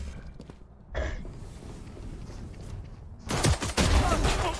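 Gunfire in the Valorant video game, a sharp shot early on, then a steady background hum and a heavy flurry of loud shots near the end, with no talk over it.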